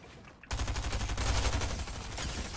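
Stinger SMG fire in a squads shooter match: rapid, loud automatic bursts that start suddenly and run as continuous rattling fire to the end.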